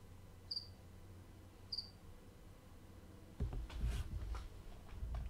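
A cricket gives two short, sharp chirps spaced about a second apart, faint and isolated, followed by a burst of louder rumbling handling noise.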